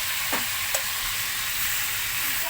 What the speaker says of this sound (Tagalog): magluluto tayo ng alimango at saka lokon